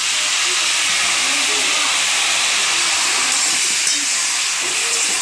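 Taro leaves hit hot oil in which garlic has been frying, and a loud, steady sizzle and hiss holds evenly from start to finish.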